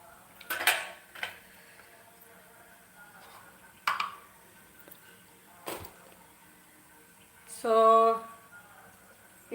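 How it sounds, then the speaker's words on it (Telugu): Metal cooking pot and lid clanking on a village stove while mung bean curry cooks, with a few sharp knocks and a longer ringing scrape as the lid is set on, close and fairly loud. "కొంచెం మూత పెట్టేద్దాం"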